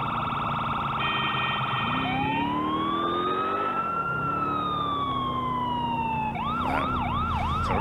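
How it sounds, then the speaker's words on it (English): A Crown Victoria police car siren in GTA 4 wails up and down loudly, shifting into a fast yelping pattern near the end, close and continuous. "Siren sounds good."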